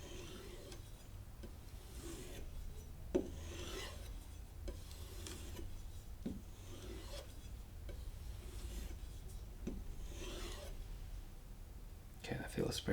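A knife stroked lightly along a leather strop, producing soft repeated rasping swipes at an even rhythm, faint and close, with a low background rumble.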